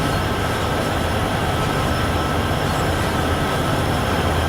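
A train rolls along in the Train Sim World 6 video game on the Cheyenne to Laramie route, giving a steady, dense rumble of wheels and engine that holds unbroken throughout.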